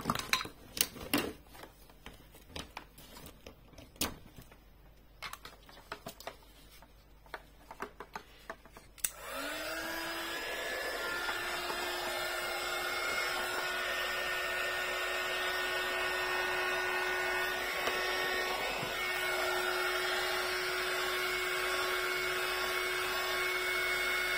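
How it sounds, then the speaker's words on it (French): A heat gun used on a handmade scrapbook birthday card roars to life after some light tapping and handling, then holds a loud, steady, close blowing whine with a faint tonal hum. "le heat gun, ça risque de faire du bruit"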